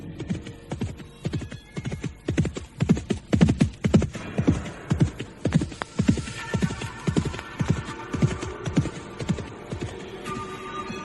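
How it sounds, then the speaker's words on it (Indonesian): A horse gallops fast in a dramatic audiobook sound effect, the hoofbeats pounding in a loud, quick rhythmic drumming that carries on steadily and fades a little toward the end. "Ada orang berkuda yang sedemikian kencangnya."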